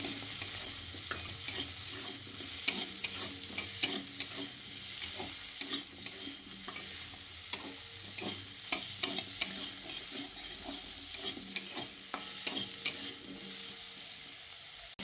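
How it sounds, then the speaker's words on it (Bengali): Chopped potato and onion frying in a pan make a continuous soft sizzle, broken by frequent scraping and tapping as a spatula stirs them, close and without talk. "এখন এই আলু আর পেঁয়াজটাকে হালকা করে ভেজে নিচ্ছি।"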